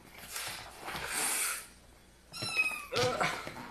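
A cat meows in a few short close calls between soft rustling and breathy noise, one rising, wavering meow standing out clearly near the end.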